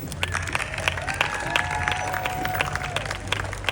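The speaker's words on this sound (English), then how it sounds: "A round of applause for Mr. Verdi, please." Crowd applause and scattered cheering at an outdoor Armed Forces Day parade in Torrance, California, as a boat is introduced; steady broad clapping from many spectators, moderately loud, with an announcer's voice and crowd chatter mixed in.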